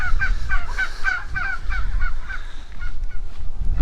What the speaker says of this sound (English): if you can hear me over the turkeys